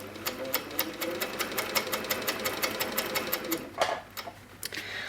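An HQ Sweet Sixteen quilting machine stitches ruler work in a fast, steady needle rhythm, close and loud, with a brief pause and shift in tone near the end.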